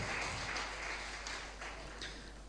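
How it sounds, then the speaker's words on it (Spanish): A church congregation applauding: a dense, even patter of many hands clapping at moderate volume, fading slightly over a couple of seconds, with no voices above it. "Un aplauso al Señor"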